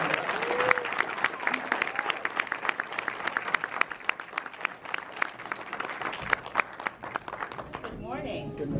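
Audience applause at a Best Buy corporate campus event welcoming the CEO and a senior HR vice president: dense, steady clapping from a sizeable crowd across the whole stretch, with some voices mixed in and a brief quieter moment near the end.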